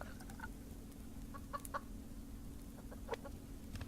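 Chickens in the survival video game Subsistence cluck in a few short scattered bursts over a low steady hum, quiet and without any talking.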